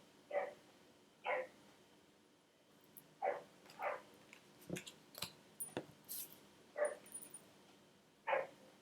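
A dog gives short, spaced barks and yips, about eight or nine separate bursts at irregular intervals, fairly close but not loud, with quiet gaps between them.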